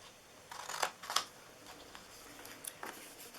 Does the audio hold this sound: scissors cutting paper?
yes